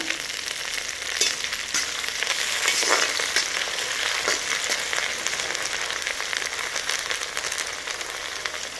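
Egg fried rice sizzles steadily in a hot pan as it is stirred, a continuous crackling hiss with occasional scraping of the spoon against the pan.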